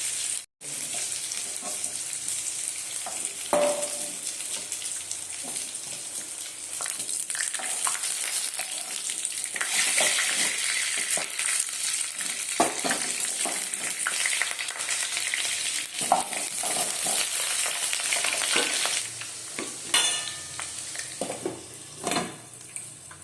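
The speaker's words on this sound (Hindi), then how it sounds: "पोटल को काढ़ी से तेल में आलू को भी फ्राए करनवा" Potatoes frying in oil in a pan for parwal aloo korma, a steady loud sizzle running throughout with occasional stirring clinks and scrapes.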